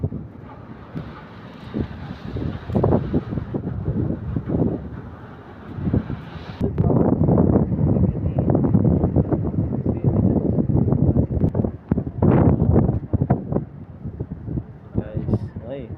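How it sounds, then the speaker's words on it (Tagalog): Strong wind at Manila Bay buffets the microphone in heavy, irregular gusts, loud and close, with voices speaking intermittently underneath. "Sobrang lakas ng hangin."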